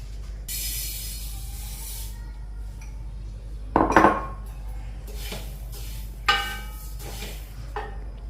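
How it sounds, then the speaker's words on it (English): Dishes and a thick-bottomed pan being handled on a stove while spices dry roast over a low flame, with a constant low hum beneath a few sharp metallic clinks and scrapes that stand out near the middle and again shortly after. "add thick bottomed pan on stove and dry roast them on low flame"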